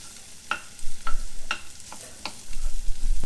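Onion frying in extra virgin olive oil, a close sizzle broken by several sharp clicks and scrapes of a utensil stirring the pan, with no talking.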